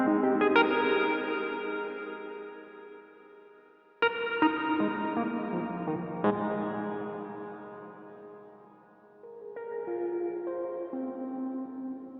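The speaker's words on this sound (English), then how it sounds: "can kind of just do a lot of that kind of vintage kind of studio reverb sound" Sustained tones through a Chase Bliss vintage studio reverb pedal, drenched in lush, echoing reverb, each chord blooming and slowly decaying into a washy tail, with no talking.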